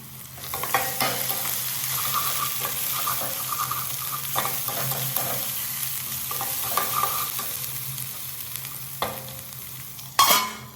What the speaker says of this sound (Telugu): ఆనియన్స్ కొంచెం ఫ్రై అయిన తర్వాత పసుపు, సాల్ట్, జింజర్ గార్లిక్ పేస్ట్ ఈ 3 వేసేసి అవి కూడా బాగా ఇలాగ ఆయిల్లో ఫ్రై